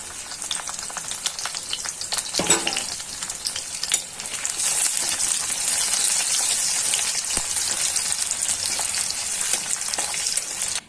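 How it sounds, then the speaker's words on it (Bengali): Chopped ginger and garlic fry in hot oil for a fish mash, a loud continuous sizzle with a few stirring scrapes and clinks, swelling after the garlic goes in. "তারপরে দিয়ে দিচ্ছি রসুন, এগুলো তেলে ভাজা নিই।"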